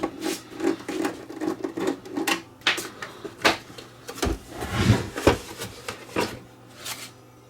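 Plastic screw covers being popped out of a portable power station's casing, giving a run of small scattered clicks and snaps with some handling rustle, close and fairly faint.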